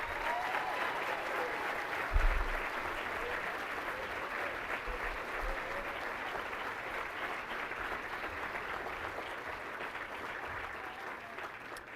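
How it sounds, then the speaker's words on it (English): Audience applause for twenty honored educators at a teacher of the year ceremony, a broad, even wash of clapping heard from a distance, steady for the whole stretch with little variation. "one more round of applause."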